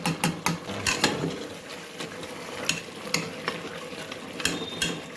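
Mutton curry cooks in a pan with a soft continuous sizzle, broken by intermittent scraping and clinking of a stirring spoon, close and fairly quiet.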